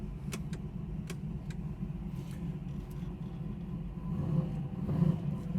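A 1967 Chevrolet Camaro restomod engine with an aggressive cam idles steadily with a low, rumbling drone, swelling slightly louder near the end, with a few faint clicks above it.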